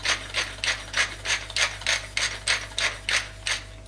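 A pepper or salt mill is twisted over eggs for a mini omelette, giving a steady run of about a dozen rhythmic, gritty ratcheting grinds, close and clear over a low background hum with no talking.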